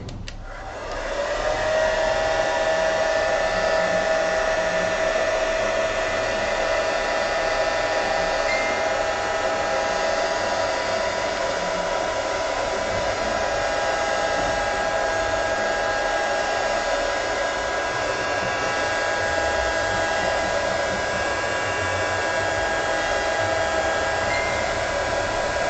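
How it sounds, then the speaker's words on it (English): A hair dryer on a gentle setting blows steadily over a watercolour painting, a close, even whir with a faint high whine that runs without a break for nearly half a minute, no talking over it. "I'm going to use my hairdryer on a gentle setting and try not to disturb the salt"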